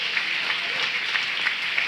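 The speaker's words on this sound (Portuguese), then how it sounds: "Pode aplaudir a Jesus bem forte." A church congregation applauds steadily and loudly at a family prayer service, dense clapping filling the space without pause and no voices standing out.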